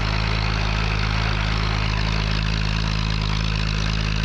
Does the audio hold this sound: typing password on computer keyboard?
no